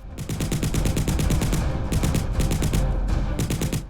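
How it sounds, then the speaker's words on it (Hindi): Rapid bursts of automatic gunfire at night near Akhnoor, sharp repeated cracks in quick rhythmic volleys with brief pauses, loud and sustained over a rumbling background. "रात करीब 8:30 बजे गोली की आवाज ने सन्नाटे को चीर दिया"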